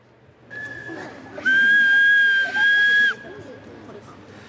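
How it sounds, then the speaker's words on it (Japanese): A homemade whistle folded from a cut milk carton and taped into a box shape gives shrill, steady blasts, one short and then a longer loud blow with a brief break, over light background chatter. "災害時に自分の居場所を知らせることができるホイッスルが出来上がりました"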